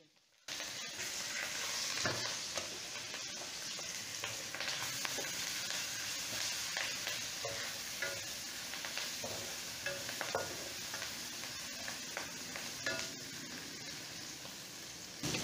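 Ginger, garlic and curry leaves sizzle steadily in a hot oiled pan for a bottle gourd kootu, with repeated scraping stir strokes and clinks close by, continuous and fairly loud with no talking.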